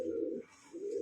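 Pigeons coo softly on a pigeon farm, a low throaty call rising, dipping briefly, then resuming, close by and alone without talk.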